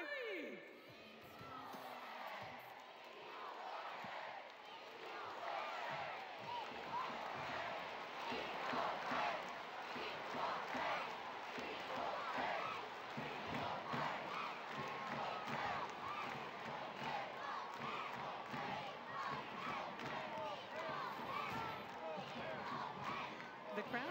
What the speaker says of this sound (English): I think it's only fitting we start that equal pay chant, yeah?